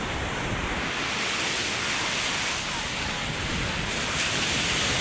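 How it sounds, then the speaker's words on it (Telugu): Ocean waves roll in at Chennai beach as a steady, loud wash of surf that blends with wind rumble on the microphone, with no break for the full few seconds and no voices. "చెన్నై సముద్రం"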